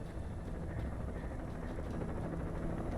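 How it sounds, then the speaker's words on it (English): Helicopter in the video game Alan Wake Remastered, a steady low rotor drone with broadband rumble holding at constant loudness throughout, as if hovering or passing overhead. "Chopper."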